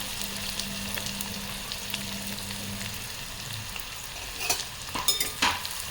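Onion and curry leaves frying in a pan for a simple paneer bhurji, a continuous close sizzle with sharper spoon scrapes and crackles near the end.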